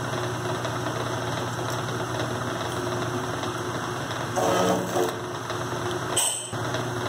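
A horizontal mill cutting slots into custom flintlock screws, a steady close machine hum with a short harsher cutting burst midway and a brief rise near the end, no talking.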